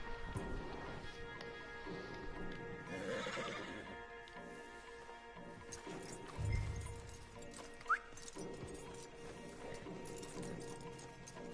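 Horses in Red Dead Redemption 2 neigh loudly and clop along at a steady pace, with a sharp whinny standing out and a few heavier thuds amid ambient game sounds.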